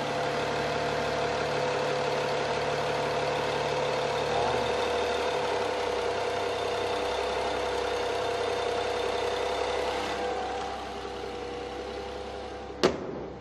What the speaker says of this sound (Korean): 이제 엔진 소리 한번 살펴봐 드릴게요.